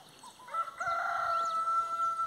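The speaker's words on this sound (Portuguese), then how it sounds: "Vocês estão ouvindo no fundo um galo cantando." A rooster crows once in a long, drawn-out call on a countryside farm, heard at a moderate distance over quiet outdoor background.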